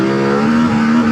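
A CFMOTO IBEX 450 motorcycle rides along a gravel path, its engine holding a steady, close, fairly loud tone with a slight rise in pitch partway through.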